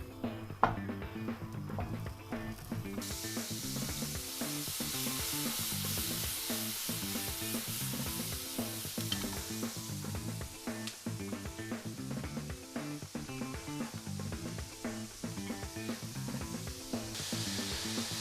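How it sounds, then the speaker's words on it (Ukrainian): Carp fish steaks fry in an ordinary frying pan, a steady, close hiss of sizzling oil that holds for the whole stretch without pause, with no voices. "Обсмажуємо на звичайній пательні."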